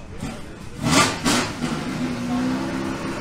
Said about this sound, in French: Une Porsche 906.